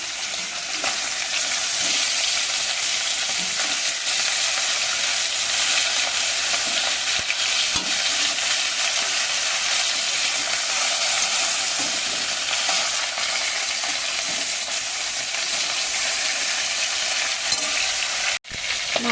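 Salted, turmeric-rubbed fish frying in a pan, giving a constant loud sizzle of hot oil with occasional spatters and stirring scrapes, unbroken for most of the clip before a sudden cut near the end.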